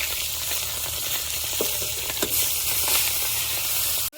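Tengra fish fry in a pan with a continuous, close, loud sizzle and a few faint clinks, ending in one sharp knock.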